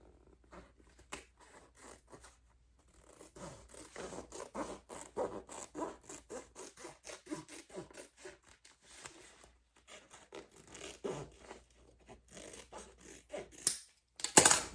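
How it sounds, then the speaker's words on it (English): Scissors trim the fabric lining of a fold-over clutch, giving rapid runs of crisp snipping cuts close to the microphone, broken by short pauses and a louder handling rustle at the end. "let me trim this side of my lining"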